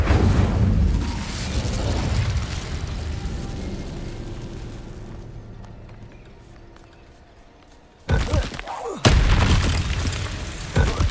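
In Hogwarts Legacy, the Incendio fire spell is cast with a heavy, roaring whoosh of flame that fades away, then deep booms and impacts burst out. Combat noise continues around it.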